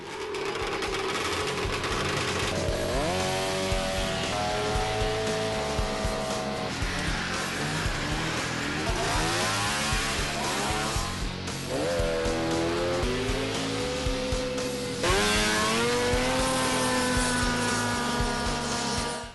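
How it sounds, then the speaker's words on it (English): Vintage snowmobile engines racing on a grass track in summer, a continuous loud whining roar with rising and falling pitch as sleds rev, shift and pass by. "Vintage enthusiasts like to show their sleds and race them too."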